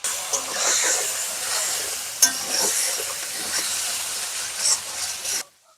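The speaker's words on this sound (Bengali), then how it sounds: "এদিকে আলুটা ভাজা হোক" Cut potatoes seasoned with salt and turmeric hiss and sizzle steadily in a pan, with a few sharp stirring clinks over the frying before the sound cuts off abruptly.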